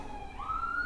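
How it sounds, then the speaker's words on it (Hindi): An ambulance siren passes in Dublin, Ireland, as a brief, steady rising wail over low traffic rumble, moderately near, with no talking. "एम्बुलेंस या फायर ब्रिगेड? एम्बुलेंस."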